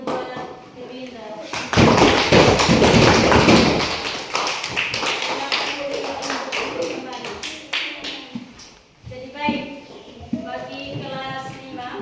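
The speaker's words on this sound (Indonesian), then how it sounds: "kita memberikan tepuk tangan buat Erlinda" A classroom bursts into a short round of applause for a student named Erlinda: a dense, loud patter of clapping that lasts a couple of seconds, then fades under ongoing talk.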